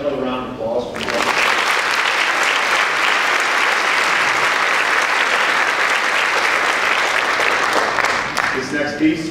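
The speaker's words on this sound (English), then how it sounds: "Another round of applause for you." An audience applauds at a symphonic band spring concert after a trumpet section feature. Full, dense clapping runs for about eight seconds, and there is brief talking just before and after it.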